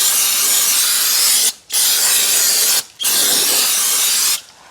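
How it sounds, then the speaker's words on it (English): A can of brake cleaner sprays onto the rear brake rotors of a 2018 Nissan Altima in three long, loud hissing bursts separated by brief pauses, close to the microphone. "We'll just spray them down and clean them."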